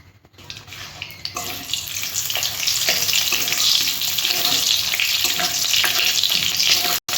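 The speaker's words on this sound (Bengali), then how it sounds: "আমি ফোড়ন দিয়ে দিলাম।" Mustard seeds and dry red chilli hit hot oil in a kadai, setting off a sudden loud sizzle that swells and holds as a dense crackling hiss, cutting off briefly near the end.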